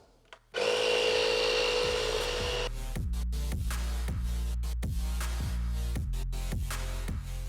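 A loud hiss of air bursts out as a Tesla tire is inflated, then gives way to a rhythmic series of pulsing pumps over a steady mechanical drone.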